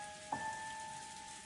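Soft, steady rain falls outside a cold, high-ceilinged chapel. The patter is faint and even, with one brief knock near the start.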